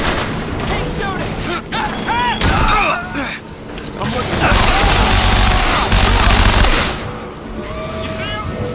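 Gunfire and explosions in BioShock Infinite, loud and continuous, with rapid shots, booms and mechanical clatter layered over shouted voices.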